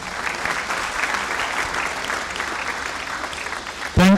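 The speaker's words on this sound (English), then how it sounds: "Let us give a round of applause again." Audience at a Pwani University graduation ceremony in Kenya applauds steadily in a dense, even wash of clapping that carries through, ending with a brief louder bump.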